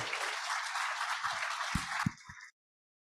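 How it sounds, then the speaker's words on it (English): Audience applause at a county conference on substance abuse disorders, a soft, steady patter of clapping lasting a couple of seconds with a few louder thumps before it cuts off abruptly. "Let's give him a round of applause for that."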